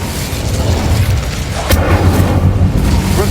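Incendio fire spell cast in Hogwarts Legacy on PS5, a loud booming burst of flame with a sharp crack midway, rumbling on beneath steady game noise with no talk.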